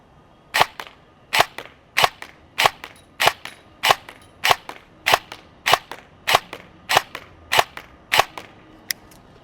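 An EMG Sharps Bros AEG airsoft rifle fired in single shots during an accuracy test at about 50 feet, fifteen or so sharp, loud snapping reports at an even, unhurried pace with no talking.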